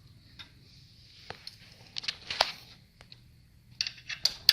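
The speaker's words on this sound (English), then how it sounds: "You want to use the hex wrench this way to get the most leverage with your hand." A hex wrench tightening bolts on a VP unit during assembly, heard as faint close metallic ticks and clicks in irregular bursts separated by quiet pauses.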